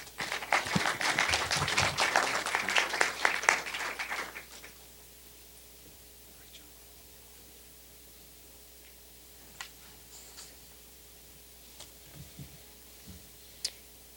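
An audience at a college idea pitch competition gives a burst of loud applause lasting about four seconds, then stops abruptly, leaving a quiet room with a low hum and a few scattered clicks.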